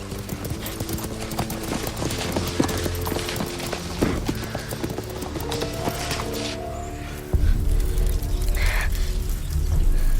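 Hooves clip-clop in a steady rhythm on hard ground, fairly close, over a busy background that grows louder toward the end.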